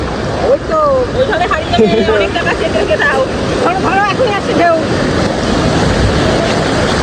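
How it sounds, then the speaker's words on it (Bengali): Large sea waves run up and break on Digha beach, a continuous close surf roar with wind noise, while voices talk over it and people chatter nearby. "এখানে বড় বড় ঢেউগুলো আসছে, তো এখানে এসে শেষ হয়ে যাচ্ছে।"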